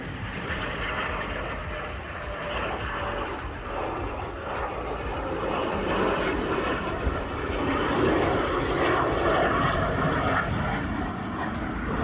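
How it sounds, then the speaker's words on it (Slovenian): Military airplane coming in to land near an airport on Cyprus, a loud sustained jet roar that builds and swells as it passes, heard outdoors with faint background voices. "boste zdaj videli posnetek vojaškega letala, ko v bistvu glih gre v pristajanje"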